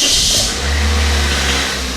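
A 2005 Toyota Corolla engine catches and settles into a loud, steady mid-pitched rumble heard up close, with a brief rev at the start, no voices.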